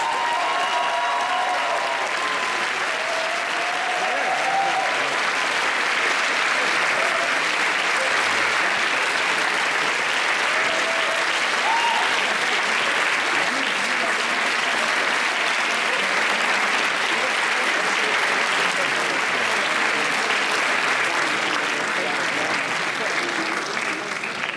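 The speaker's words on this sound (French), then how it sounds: "je vous demande de les applaudir très chaleureusement en signe de reconnaissance" Warm, sustained applause fills a concert hall during a 2015 university graduation ceremony, a steady dense clapping from a large audience that continues evenly for the whole stretch without letting up.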